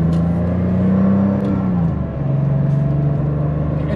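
Porsche Carrera 3.2 flat-six engine humming steadily while driving, a low sustained drone that swells and dips briefly before settling back to a steady pitch, close and loud throughout with no talk.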